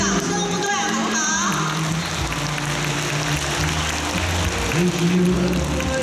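Sustained audience applause at the curtain call of a 2022 dance showcase in Taoyuan, a dense steady clapping wash lasting throughout with faint tonal music or voices beneath it.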